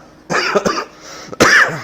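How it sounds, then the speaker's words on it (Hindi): Two close, harsh coughs, the first a quick double burst, the second after a short pause, with no talking. "खांसी बहुत चल रही है इस टाइम पे"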